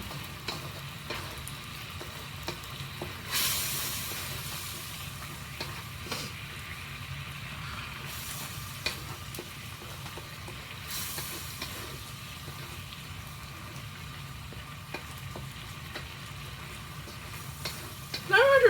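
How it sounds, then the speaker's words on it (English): Steady sizzling of food frying in a hot wok, a soft continuous hiss with occasional louder bursts and clatter, no talking. "It needs to be sizzling."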